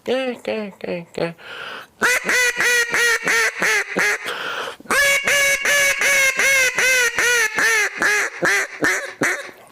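A duck call blown hard gives a loud run of sharp, blaring quacks: a short burst, then long steady rhythmic strings of evenly spaced, close, piercing notes.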